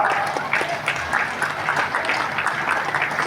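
A crowd of women claps at a political rally in Beohari, steady dense applause held at moderate loudness for the whole stretch with no talk over it.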